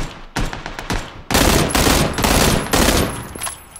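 Suppressed assault rifle fire in PUBG, loud and close: a quick run of clipped shots followed by several sustained bursts in steady rhythm, with no talking.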